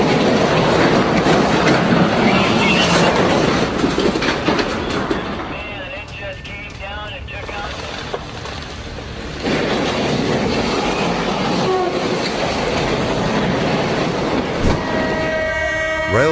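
A train rumbles past with clattering wheels and a horn blast, loud and continuous, with a voice talking over it.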